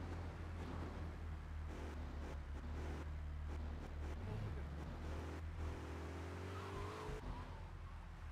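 A car driving through city traffic in Grand Theft Auto III, with a steady, droning engine hum that rises and falls in pitch and brief tire noise. No voices are heard.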